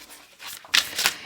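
A short, soft flurry of tarot cards being shuffled, two quick papery riffles close by with no talking.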